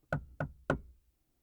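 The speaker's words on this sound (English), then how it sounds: "there came a knocking at the street door" Three sharp knocks strike a street door in an even rhythm, close and distinct, followed by silence.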